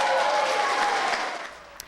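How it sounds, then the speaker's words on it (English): A roomful of people at a Saskatchewan Party nomination meeting breaks into dense applause and cheering, loud at first and then gradually thinning out. "A resounding cheer filled the room as Lloydminster Public School Board Chair Colleen Young was named the Saskatchewan Party candidate for the upcoming by-election"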